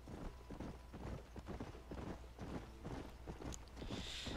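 A horse's hooves clip-clop in the video game Red Dead Redemption, a steady, quiet walking rhythm of regular hoof strikes with faint background ambience.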